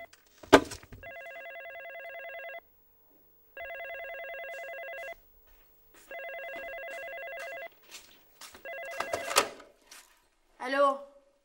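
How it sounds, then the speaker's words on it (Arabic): An old-style landline telephone bell rings in four long repeated bursts with short pauses, loud and close, with clatter and handling noises near the end as the receiver is picked up. "ردي على التليفون يا بنتي ليكون خالك"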